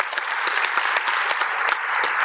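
Audience members at an engineering lecture applaud both speakers, with brisk, busy clapping from many hands that stays fairly even throughout this short burst.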